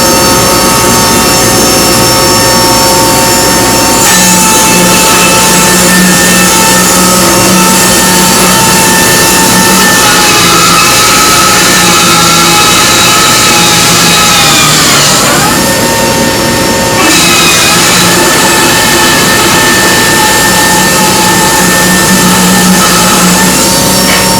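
A saw cuts through oak live edge slabs with a steady loud engine drone, rising and falling in pitch as the blade bites, continuous and close throughout.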